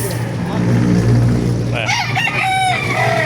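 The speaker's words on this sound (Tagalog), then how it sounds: "Ganda ng mga manok" A rooster crows nearby at a chicken market in Baliuag, Bulacan, its call rising and breaking over a steady background hum of engine noise and faint voices.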